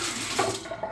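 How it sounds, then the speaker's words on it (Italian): Water runs from a tap into a sink for washing the face after a wet shave, a steady close splashing flow with slight surges, no voices. "mi lavo la faccia, acqua calda e shock di acqua fredda successivo."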